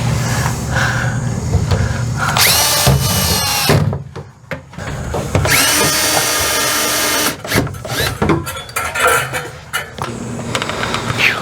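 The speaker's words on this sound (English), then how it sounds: "Cameron's under there finishing screwing the tank to the floor" A power drill drives screws to fasten an RV or mobile kitchen holding tank to the floor, whirring loudly in several bursts with short stops between, close by and strong, mixed with clunks of work underneath.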